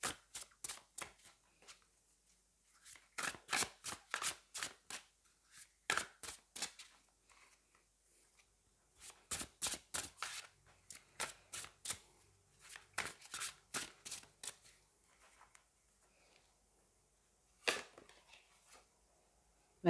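Tarot cards being shuffled and drawn, with repeated bursts of crisp riffling snaps in quick clusters separated by short pauses, close and clear with no talking.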